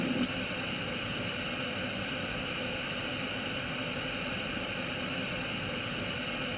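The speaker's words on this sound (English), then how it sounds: "Let's go back to pink noise and choose a new one." Steady broadband hiss of pink noise with one band pushed up, continuous and unchanging, no voices.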